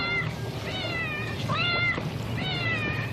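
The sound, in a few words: cat meowing in a film, reluctant on a boat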